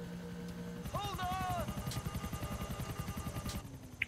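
A helicopter's rotor thumps in a steady rapid rhythm in the video game GTA 4, with electronic whines and beeps layered over it, continuous and fairly loud.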